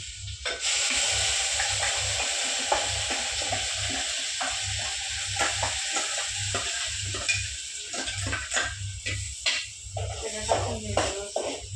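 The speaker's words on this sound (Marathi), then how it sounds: "आता आपण हे याच्यात टाकून घेणार म्हणजे हा मसाला टाकणार" Homemade black masala, red chilli powder and turmeric go into a hot pan, giving a soft sizzle with scraping stirring strokes and light clinks over a low steady hum.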